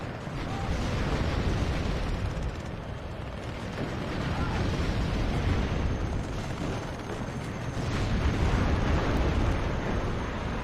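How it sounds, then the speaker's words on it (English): Rocket strike explosions in the WARNO real-time strategy game, a dense barrage of rumbling blasts and crackling booms that rolls on continuously in waves, loud and close. "We got a rocket strike incoming from a Lars."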